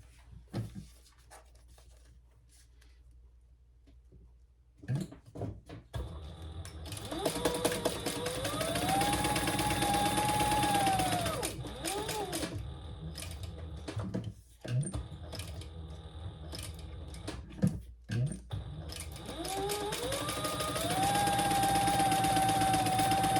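A sewing machine stitching a clutch bag starts after a quiet pause, then runs in long, steady whirring stretches broken by short stops and clicks, with a rising motor whine, close by.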